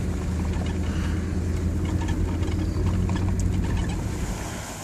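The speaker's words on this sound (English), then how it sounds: "we got a farmer down there getting his tractor going" A farm tractor engine runs to pump floodwater out of a field, a steady low rumble heard from some distance outdoors, blended with a broad wash of rushing water and wind noise throughout.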